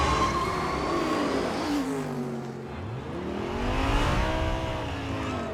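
Cars in the Furious 7 desert Race Wars scene rev loudly, with engine pitches sweeping up and down as they roar and pass, in a continuous, dense, close mix.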